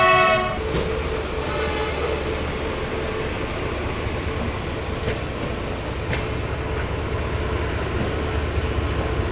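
Sampoorna Kranti Express train pulling out of Kanpur Central station, a steady loud rumble of rolling wagons throughout, with a brief horn-like tone at the very start.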